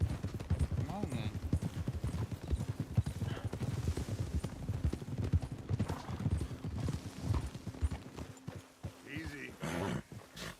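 A horse walks with steady, close clip-clopping hooves while someone talks to it, and a brief whinny or snort comes near the end.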